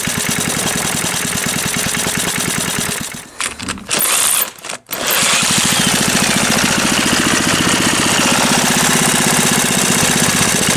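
A small engine with a newly fitted diaphragm runs loud and close with a steady, rough chugging. It stumbles and nearly cuts out twice in the middle, then recovers to a constant drone.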